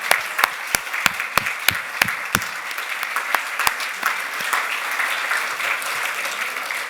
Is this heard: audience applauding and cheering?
yes